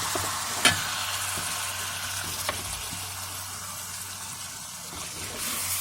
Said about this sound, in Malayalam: നമ്മൾ നേരത്തെ മാരിനേറ്റ് ചെയ്ത് വെച്ചിരിക്കുന്ന ബീഫ് നമ്മൾ ഇതിലേക്ക് ചേർത്ത് കൊടുക്കുകയാണ്.